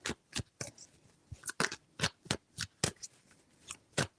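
A deck of tarot cards is shuffled in a rapid string of short, crisp riffles and snaps, close and fairly loud, with uneven gaps and no talking.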